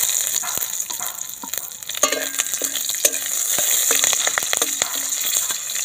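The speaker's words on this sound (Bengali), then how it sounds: "এবার তেজপাতা তেলের মধ্যে ছিঁড়ে দিয়ে দিলাম" Torn bay leaf and garam masala fry in hot oil for a vegetable khichdi, a continuous close sizzle punctuated by repeated metallic scrapes and taps of a spoon against the pan, with no speech.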